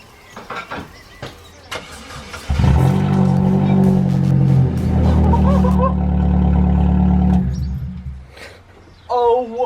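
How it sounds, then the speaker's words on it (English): A Vauxhall Corsa with its muffler removed starts and revs hard, a loud raw roar with rising and falling throttle held for several seconds before cutting out, with brief voices before and after. "that should be literally the sound of the engine, or the sound of the exhaust"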